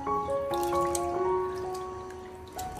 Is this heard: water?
yes